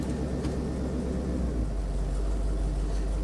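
Vehicle engine idling with a steady low rumble, close and unbroken, with a slight change in tone as it is shifted into gear.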